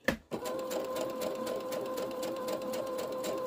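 A sewing machine stitches fabric with the presser foot down, starting after a short thump and then running as a steady close whir with rapid, evenly repeating needle pulses.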